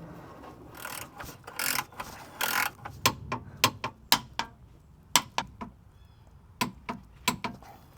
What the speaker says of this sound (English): I'm going to torque all these bolts down to 55 foot-pounds